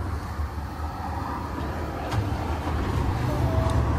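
Truck engine running steadily to build air pressure for a trailer's air suspension, a low continuous rumble close by that swells slightly louder toward the end, with no voices.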